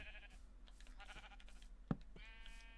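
Sheep in the video game Minecraft bleat repeatedly, several wavering cries overlapping, with a sharp click partway through.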